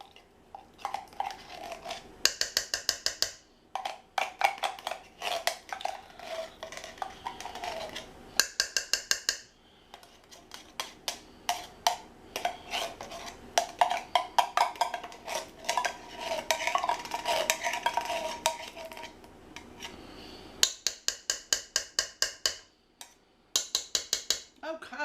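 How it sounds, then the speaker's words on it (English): A whole can of tomato paste scraped out into a cooking pot, with repeated bursts of quick metallic scraping and tapping separated by short pauses. "So I'm putting this whole jar or can into this pot."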